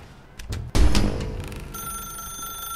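A telephone rings in an office in the game The Stanley Parable: a few thumps and a burst of noise come first, then a thin, steady electronic ring holds alone at moderate volume.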